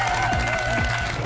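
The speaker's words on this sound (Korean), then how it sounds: "2분께 뜨거운 박수 부탁드립니다" A television quiz show studio audience claps for two contestants, a short, steady burst of applause with no one speaking.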